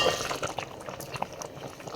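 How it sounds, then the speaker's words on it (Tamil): Water boils in a covered cooking pot with rice for a mushroom and peas pulao, with soft irregular bubbling and popping, fairly quiet and close, and no talking. "நல்லா கொதி வந்துச்சு"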